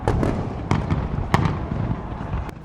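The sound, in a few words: fireworks over Sydney Harbour Bridge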